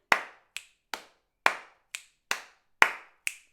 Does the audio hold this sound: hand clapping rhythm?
yes